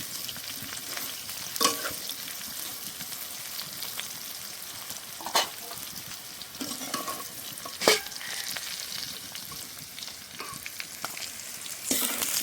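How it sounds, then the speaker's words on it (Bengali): Pieces of jackfruit sizzling in oil in a pan for a Bengali prawn dish, a steady crackling fry with occasional louder scrapes and stirring knocks, close and without talk. "এঁচড়গুলো খুব ভালো করে ভেজে নিয়েছি, এই দেখুন।"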